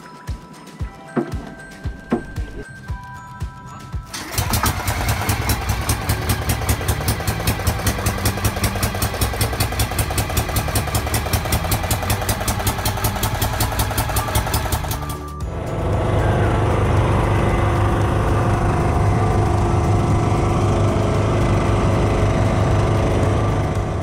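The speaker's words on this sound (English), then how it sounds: "It's basically a bangka or pawa boat with an engine." A bangka pump boat engine in the Philippines starts up and runs steadily and loudly, a rapid chugging drone that shifts pitch partway through, with water and wind noise around it.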